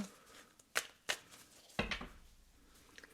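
A tarot card deck is shuffled in a few separate sharp riffling bursts, close and quiet, with soft handling noises between them.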